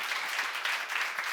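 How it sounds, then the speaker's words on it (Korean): Church congregation applauding together in a sustained, dense wash of clapping during a Korean sermon seminar, steady and fairly close for the whole moment. "박수를 하나 주세요."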